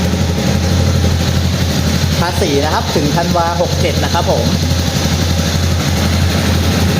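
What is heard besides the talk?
Honda CB300R 2019 motorcycle engine idling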